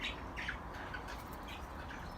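Budgies give a quick series of short, sharp squawks and chirps, fairly close but not loud, over a soft background hiss.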